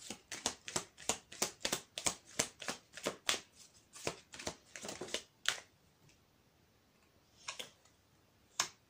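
Tarot cards are shuffled close by in quick repeated riffles, a run of crisp rhythmic slaps over several seconds, then a pause and a few sparse card taps, quiet overall with no talking.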